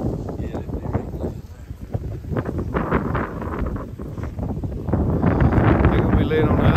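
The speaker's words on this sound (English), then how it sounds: "Ooh, that wind is tough." Strong wind buffets the microphone on a mountain during a hunt, a continuous low rumbling roar with gusty surges that grows stronger toward the end.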